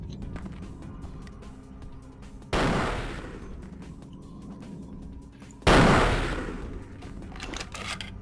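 Two loud sniper rifle shots in Vampire the Masquerade Bloodlines, each a sharp blast with a decaying tail, a few seconds apart over a low game ambience.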